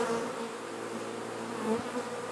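Honey bees buzzing at a hive during an outdoor beekeeping class in Swanzey, New Hampshire, a steady, dense drone of many wings, close and continuous, with no voices.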